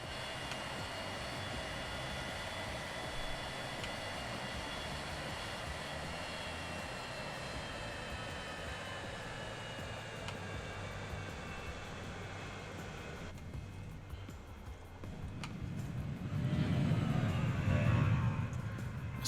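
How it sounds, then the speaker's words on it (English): A cargo airplane in the video game Transport Fever 2 drones steadily with a constant engine hum, then a deeper, louder rumble swells toward the end as it comes in close. "we actually do have the planes flying the cargo"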